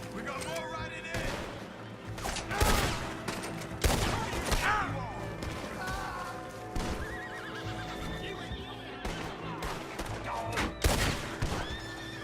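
Horses riding in during a Red Dead Redemption 2 shootout: repeated whinnies and clip-clopping hooves over a steady gallop, broken by several sharp gunshot bursts, with voices talking in between.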